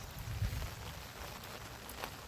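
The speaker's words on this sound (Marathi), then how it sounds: "पाऊस काय थांबत नाही आता" Rain falls steadily on a waterlogged rice field in a village, a soft continuous broadband patter with low rumbling gusts, heard alone with no talk.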